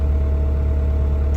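A car engine runs at a steady idle, a constant low hum with a faint whir on top, close by and unbroken.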